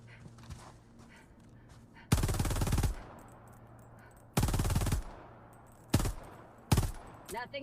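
Helldivers 2 weapons firing in loud rapid bursts: a long automatic volley, a second burst, then two shorter blasts, each cutting in sharply over a quieter background with faint talk.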